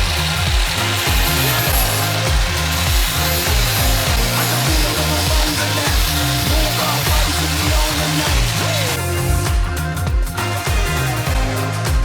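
A hand file rasps material off a motocross bike engine casing for clearance on a 600cc two-stroke build, rhythmic back-and-forth scraping strokes, steady and close.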